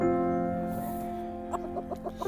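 A bantam chicken clucks in a short burst of quick, sharp notes near the end, over a steady background hum.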